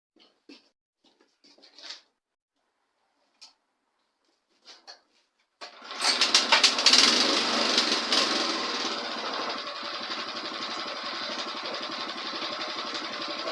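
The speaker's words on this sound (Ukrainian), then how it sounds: "Щас заведу і буду включати скорості." A mini tractor engine, hung from a hoist, starts after a few faint knocks and then runs loudly and steadily, settling into a continuous rattling idle as the gears are shifted.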